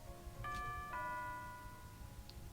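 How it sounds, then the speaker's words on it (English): A doorbell in the Nekopara video game, two soft chimed notes ding-dong, ringing out and fading, faint against a low background hum, with a small tone shortly after. "Wait, is there a doorbell?"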